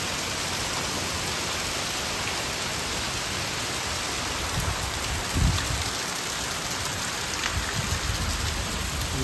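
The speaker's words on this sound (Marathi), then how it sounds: "आवाज पण भारी गरजतो एकदम मोठा" Heavy monsoon rain in the Konkan pours down in a dense, steady roar, with a short low rumble of thunder partway through.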